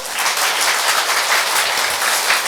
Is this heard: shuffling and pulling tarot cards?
no